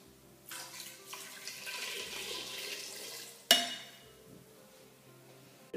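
Tap water running into the large tank of a Cecotec GM Delux multicooker to cover two chicken breasts for poaching, a steady close rush of water that stops abruptly with a sharp clink, then quiet.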